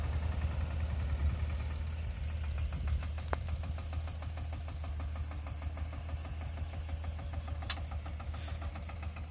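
A mini tractor, a Messy 5118, runs steadily while building field bunds, its engine putting out a constant low, knocking idle-like drone at close range with a few faint clicks and no voices.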